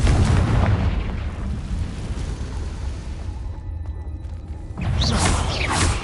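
Confringo spell blasts from the video game Hogwarts Legacy, a dense roaring explosion rumble that fades into crackling debris, then surges again with a second loud burst near the end.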